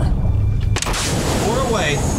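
A submarine torpedo launches in a film sound effect: a low rumble, then a sharp thump as the weapon leaves the tube, followed by a rushing, bubbling whoosh, loud and close.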